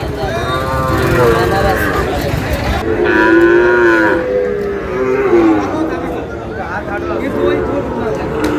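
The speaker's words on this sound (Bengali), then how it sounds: "শাহিওয়ালের ষাঁড় বাচ্চা" A young Sahiwal bull calf moos loudly and near in a busy rural cattle market, giving long drawn-out lowing calls, while people talk and bargain around it.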